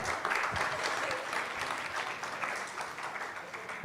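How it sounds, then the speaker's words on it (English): Audience applause at the close of the Aviation Horizon 2025 event: a dense, steady round of clapping from a crowd that holds its level throughout, with no speech over it. "a big round of applause, ladies and gentlemen, as we conclude Aviation Horizon"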